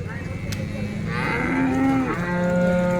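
A dairy cow at a farm sale moos, one long, close call that rises and falls, with low background murmur and no clear speech over it.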